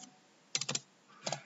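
Keys clatter on a computer keyboard while code is written for a PLC task, first in a quick cluster of strokes and then in a second short burst after a pause, close and fairly quiet, with no one speaking.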